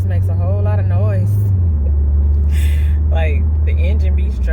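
Inside a moving 2014 Ford Focus, a steady, loud low engine and road drone runs throughout, dipping slightly in pitch partway, while a person talks over it continuously.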